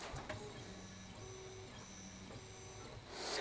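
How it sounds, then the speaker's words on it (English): A Comgrow Z1 10-watt laser engraver framing its work area, its stepper motors giving off faint, buzzy tonal whines that step up and down in pitch as the head moves, with a soft click near the start. "I'm going to send it to frame and make sure everything moves like it's supposed to"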